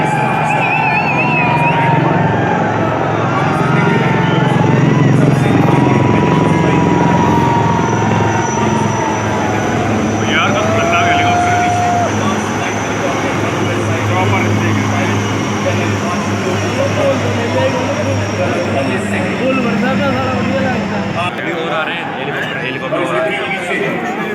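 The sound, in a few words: Indian Army Aviation helicopters flying in arrowhead formation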